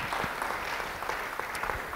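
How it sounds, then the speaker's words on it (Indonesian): A church congregation claps during a sermon, producing a fairly quiet, steady patter of hands from a crowd, a little distant and without speech on top. "Yang percaya beri tepuk tangan bagi dia."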